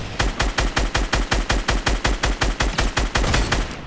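Sustained automatic gunfire in Fortnite, a loud, steady stream of about twenty evenly spaced shots at a fast rhythm lasting the full few seconds, with no talk over it.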